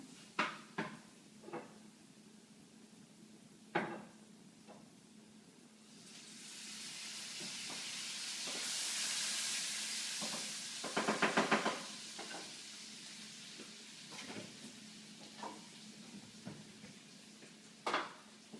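Garlic frying in oil in a pan for Malaysian chicken and rice, a soft sizzling hiss that swells in the middle, with scattered sharp clicks and clatter of cookware around it.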